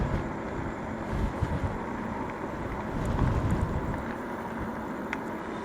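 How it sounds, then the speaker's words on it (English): Steady wind blowing in off a lake on a hot day along a trail, a continuous low rumbling gust that buffets the microphone throughout with no voices. "wind coming off the lake"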